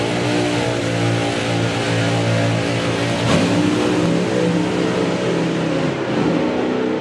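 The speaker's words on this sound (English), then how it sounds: "you're going to hear Sandro go up with the RPMs like you heard Silvio do" Loud engine of an A fuel drag racing car revving hard during staging at the FIA/FIM Main Event, a dense continuous roar held at high RPM with a brief surge midway and no voices.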